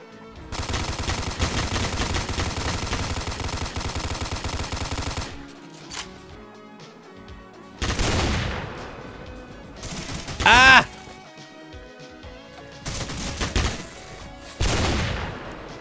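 Gunfire in the Roblox game Military Tycoon: a long rapid machine-gun burst, then separate loud shots and short volleys spaced apart, with a few quieter gaps between them.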